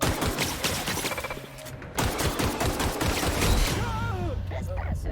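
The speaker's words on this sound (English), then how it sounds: "this feels more like an SMG" SMG fire in the video game The Outer Worlds, with rapid bursts of close, loud automatic shots crackling in quick succession amid other game effects and a voice talking over them.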